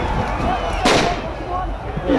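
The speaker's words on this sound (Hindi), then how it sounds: "6 सेकंड 36 गोलियां।" A single sharp gunshot-like crack fired at a leopard in Kashmir, loud and brief, over a noisy crowd and background chatter.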